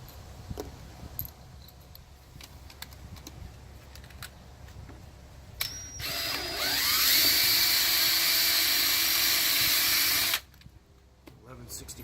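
A drill with a 9/64 bit bores pilot holes through aluminum and wood during a diving board install on a Harris 240 Sunliner pontoon boat, a loud whining burst of about four seconds after scattered quiet clicks.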